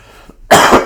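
A single loud, harsh cough from someone recovering from a chest infection, bursting out close up after a brief quiet pause, followed by a shorter second cough.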